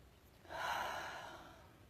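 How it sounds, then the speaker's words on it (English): A single big, deep inhale, close and breathy, swelling over about a second and then slowly tapering off, with no talking over it. "Big inhale."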